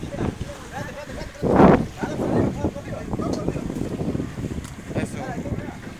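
Motorboat ride off Las Tunas beach, with rumbling wind buffeting the microphone and gusty water and engine noise, while people talk intermittently over it.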